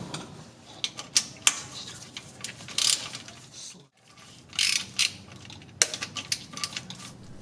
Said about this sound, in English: The pan bolts are loosened and removed.